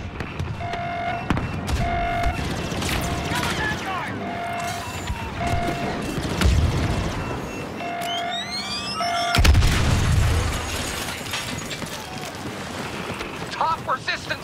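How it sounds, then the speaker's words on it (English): Demolition charges detonate in a Star Wars Battlefront battle on Jakku: two heavy, deep booms roll out amid ongoing game noise, repeating electronic beeps and whooshing sweeps. "Charges will detonate momentarily."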